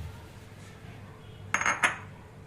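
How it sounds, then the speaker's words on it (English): Crushed ginger dropped into a wine maker while making gooseberry wine, a pair of quick close clinks and a light thud near the end after quiet room tone. "Next step is to drop in the ginger which is crushed."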